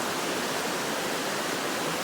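Glacial meltwater from Exit Glacier in Kenai Fjords National Park near Seward, Alaska, rushes past as a stream, giving a steady, dense, unbroken roar of water with no voices.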